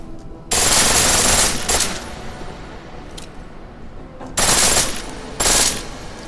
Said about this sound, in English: Pistol in full auto will take down targets fast, but it'll burn through your ammo.